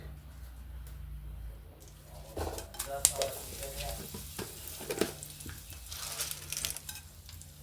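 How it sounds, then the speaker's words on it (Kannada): Peanuts and sesame seeds fry in oil for a tempering, crackling and sizzling at a moderate level with a few sharp pops and stirring clatter. Birds and faint household noise sit in the background. "ಇದೆಲ್ಲ ಫ್ರೈ ಆಗಿದೆ ಒಗ್ಗರಣೆ"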